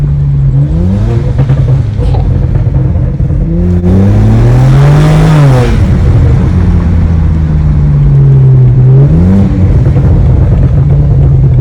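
Loud BMW 335i with an N54 engine and burble tune, revving and rising and falling in pitch through downshifts, with a rougher crackling burst partway through, heard up close and continuously with no talking.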